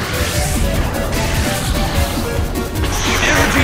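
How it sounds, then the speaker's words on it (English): An Energy Ball attack striking in the Pokémon Battle Revolution video game, a dense, loud crashing impact with a sustained rumbling wash of noise and a brighter hiss rising toward the end. "Energy ball hits!"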